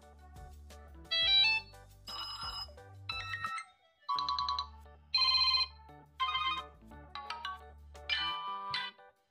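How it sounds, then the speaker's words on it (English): A POOPE K2 budget phone plays through a series of its ringtones, short bursts of bright electronic melodies and chimes separated by brief gaps, moderately quiet and alone. "Let's see what kind of ringtones this phone has."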